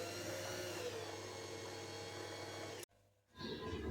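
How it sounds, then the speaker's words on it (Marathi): An Usha automatic sewing machine winds thread onto a bobbin with its handwheel disengaged, giving a steady, close motor whir for nearly three seconds. It then cuts off into brief silence before some faint handling noise. "बघा बॉबीन आपली भरल्या जाऊन राहिली"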